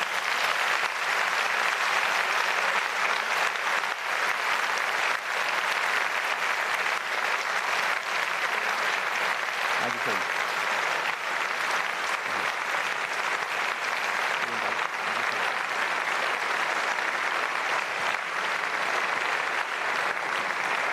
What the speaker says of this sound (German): Herzlichen Dank. Applaus